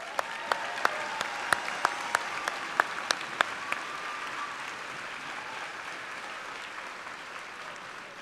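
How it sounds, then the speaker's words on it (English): Applause for graduates at a Texas A&M University-Kingsville summer commencement ceremony, a steady wash of clapping from a seated audience in a large hall, with a few sharp louder claps near the start before it fades gently. "Let's give our graduates another round of applause."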